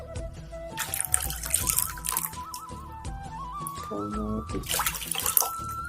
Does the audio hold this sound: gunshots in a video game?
no